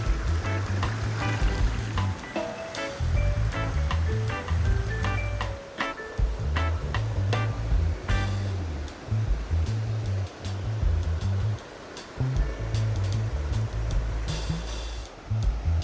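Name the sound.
waterfall, water pouring over rocks at Stoddard Falls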